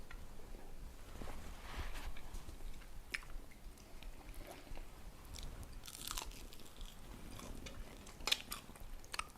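Quiet, close chewing and crunching as someone eats a Thai papaya salad (som tam) with fried chicken and hot rice, with scattered wet bites and crisp crunches and no speech.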